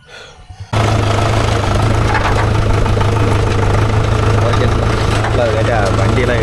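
A Mahindra tractor engine runs at a steady, loud idle, with a constant low throbbing drone that begins abruptly after a brief moment of quieter sound and continues unbroken throughout.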